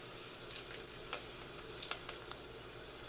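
Kangkong chips fry in oil in a pan, a steady close hiss and crackle with scattered small pops throughout and no one talking.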